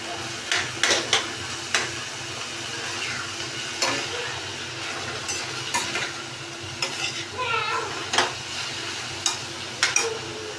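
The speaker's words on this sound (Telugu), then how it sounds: "ఆనియన్స్ బ్రౌనిష్ వచ్చిన తర్వాత మనం మటన్ కీమా కూడా వేసామండి" Mutton keema frying with browned onions in a pan, a steady close sizzle broken by repeated scrapes and clinks of a spoon stirring against the metal.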